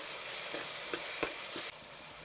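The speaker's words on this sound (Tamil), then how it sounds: "வெங்காயம் நல்லா வதங்கிடுச்சு." Onions sizzle and fry in a pan for vegetable pulao, a steady bright crackle broken by a few soft stirring knocks, heard alone.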